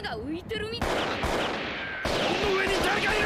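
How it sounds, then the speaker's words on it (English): Gunfire in a One Piece anime scene, a burst of rapid crackling shots and blasts mixed with music and voices, fairly loud and continuous. "They're all just firing."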